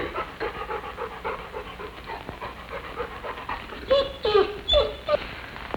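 A dog pants steadily and rhythmically during an obedience demonstration, close and clear, with a few whimpering yips near the end and people talking in the background.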